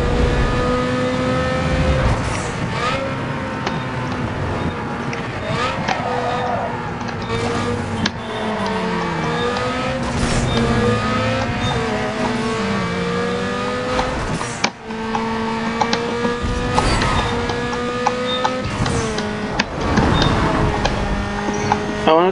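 Race car engine in Need for Speed Underground 2, revving hard and shifting through gears with rising and falling whines, loud and close throughout a lap, with brief scrapes and other cars passing.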